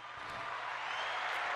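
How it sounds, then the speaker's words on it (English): Applause for Buddha from a small podcast studio audience, a steady wash of clapping that holds at an even level for a second and a half. "He needs some claps."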